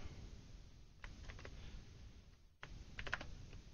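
Computer keyboard typing during a programming session, a few quick clusters of clicking keystrokes with short pauses between them, close but faint, over a quiet background hum.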